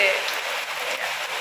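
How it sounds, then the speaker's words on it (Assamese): Heavy rain falling outside a house, a brief burst of close, bright, dense hiss with no clear voice above it. "চাওকচোন কেনেকুৱা বৰষুণ দিছে"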